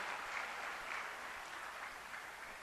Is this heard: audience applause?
yes